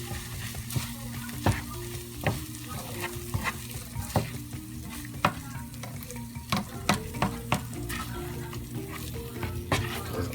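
Three scrambled eggs sizzle steadily in a frying pan while a utensil stirs and scrapes against it in repeated close clicks and taps, with no talking.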